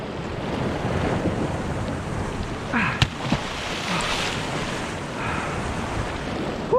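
Ocean surf washes against a rocky shore in a steady, loud roar mixed with wind buffeting the microphone, with a few brief knocks and splashes over the continuous rush.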